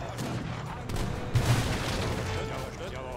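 Booming cannon fire in Age of Empires III: Definitive Edition, dense rumbling blasts overlapping in a continuous barrage with a slightly louder burst in the middle.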